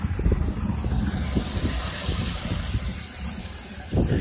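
A hose filling a water tank with a steady hiss of flowing water, close by, with a low rumbling undertone and a brief bump near the end.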